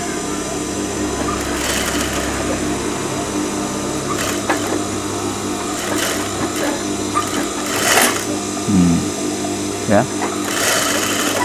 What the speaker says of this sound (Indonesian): Terus kita jahit.